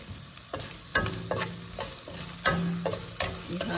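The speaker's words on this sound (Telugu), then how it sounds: "చక్కగా అన్నీ ఎర్రగా వేగినాయండి" Dal and turmeric tempering frying in a pan for quinoa gongura rice, a close crackling sizzle broken by repeated scraping stirs of a spoon against the pan.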